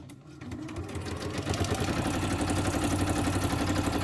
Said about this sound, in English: Okay, so we're going to sew that on as well.